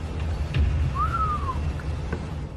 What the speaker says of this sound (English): she hears a whistle.